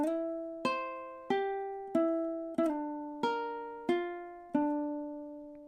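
Ukulele plucking the first measure of a song, nine evenly spaced notes and chord plucks, each decaying before the next, played close and clean with no voices.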